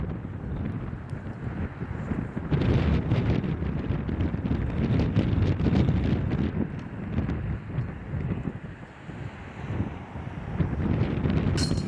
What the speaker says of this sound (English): As you can see and hear, the wind is blasting.